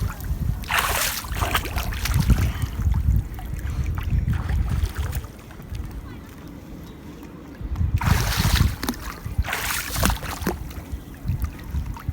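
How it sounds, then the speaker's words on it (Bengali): A fishermen's boat on the Sontola river, with water sloshing and splashing against the hull, bursts of wind noise on the microphone, and the surge rising, easing and rising again. "এটা হলো জেলেদের নৌকা জেলেরা এই নৌকা দিয়ে মাছ মারে সন্তলা নদীতে"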